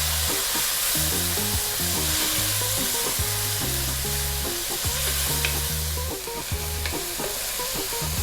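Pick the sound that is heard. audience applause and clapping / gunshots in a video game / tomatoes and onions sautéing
tomatoes and onions sautéing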